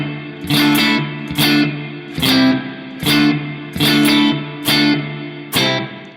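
Guitar chords through a Donner Yellow Fall 2 pedal on its hall reverb model ring out in about seven evenly spaced strums, each leaving a short reverberant tail before the next, clear and upfront with no talking.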